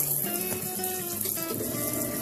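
Water runs steadily into a Zeny portable washing machine, a continuous close splashing fill with a faint mechanical hum beneath, no voices.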